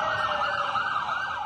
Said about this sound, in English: Screaming sirens ringing out in northern Israel